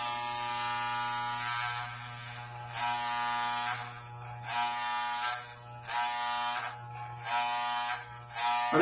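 An electric beard trimmer fitted with a number 7 (22 mm) guard buzzes steadily while trimming a medium-length beard, close and alone, its tone wavering in short pulses as it passes over the hair.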